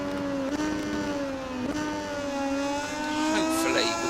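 Moto2 bikes racing through a lap of the MotoGP 19 game at the Valencia GP, a steady high engine whine with rising and falling pitch as gears shift, held loud and close throughout with no speech.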